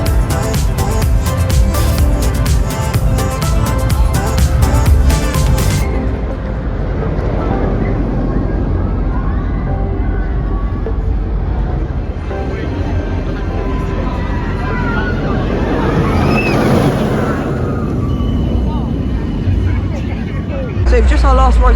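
A ride on the Hyperia roller coaster at Thorpe Park: loud, constant rushing wind and rumbling track noise that swells and shifts throughout, with voices of riders mixed in.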